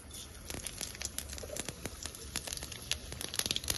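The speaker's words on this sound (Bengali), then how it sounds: "এবার আমি তেল গরম হয়ে গেছে দেখে নিলাম, দিয়ে দিচ্ছি 5 ফোড়ন।" Five-spice seeds crackle and sizzle in hot mustard oil while tempering khichuri, a faint, busy spatter of tiny pops close by, with no talking.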